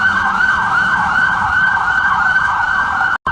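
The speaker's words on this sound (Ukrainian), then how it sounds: "Пожежна машина виїхала з депо і мчить просто в центр міста." A loud cartoon fire engine siren wails in a steady rising and falling sweep, close by, then cuts out abruptly just before the end.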